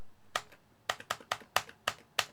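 Keys on a Commodore 64 keyboard with some keys not working are pressed one at a time to test them. About nine crisp, clacky taps come at an uneven pace, close and fairly quiet, with no talk.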